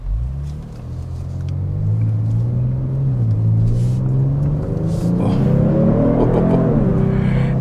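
A 2022 Genesis G70 Sport Prestige with an 8-speed automatic, driven in Sport Plus mode: a steady low engine rumble from inside the cabin that climbs in pitch as it accelerates near the end, with no talk.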